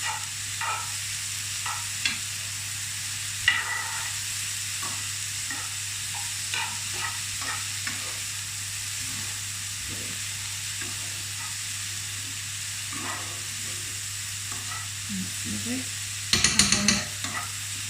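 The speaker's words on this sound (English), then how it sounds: "I'm just going to stir these round. Make sure all the vegetables are coated with the spices and the herbs." Vegetables coated in cumin, coriander and herbs are stirred round a frying pan for a sweet potato and pepper frittata, giving soft scattered scrapes and clicks over a faint steady sizzle, with a louder burst of clatter near the end.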